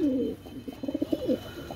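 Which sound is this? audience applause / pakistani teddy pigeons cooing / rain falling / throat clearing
pakistani teddy pigeons cooing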